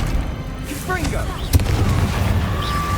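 A Confringo fire spell blasts off in Hogwarts Legacy, a sharp burst with a booming impact midway through amid game combat effects, while a voice talks over the action.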